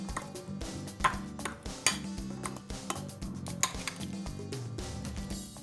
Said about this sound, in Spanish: vamos a ir mezclando la mantequilla con el ajo y el perejil